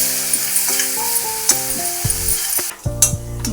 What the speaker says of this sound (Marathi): तर आता तेलात आपण आता तेलामध्ये मिरची टाकून घेऊया.